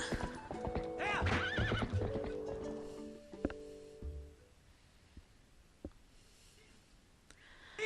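Link's horse in The Legend of Zelda: Twilight Princess whinnies loudly, then its hooves clop in a quick galloping rhythm that slows and fades to a few scattered steps.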